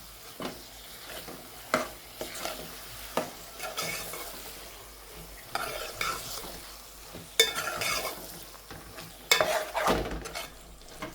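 Turiya (ridge gourd) curry with spices is stirred in a pan, the spoon scraping in repeated knocks and sweeps over a low, continuous sizzle, with no talking.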